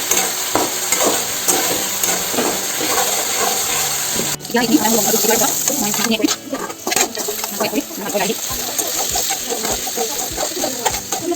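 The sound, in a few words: stir-frying spices and meat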